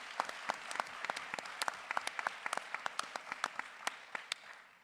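Town hall audience at a Broward County education meeting in a church breaks into applause, many hands clapping in a dense, fairly distant patter that stays steady for several seconds before thinning slightly.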